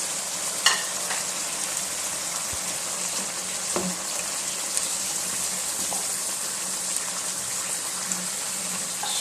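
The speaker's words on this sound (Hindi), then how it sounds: "अब इसके नीचे फ्लेम हमने तेज़ कर दिए ताकि इनका पानी ड्राई भी हो" Chicken and tinda (apple gourd) sizzle in a pan over a high flame, a steady close hiss of frying with a few faint clicks and stirring scrapes, and no talking.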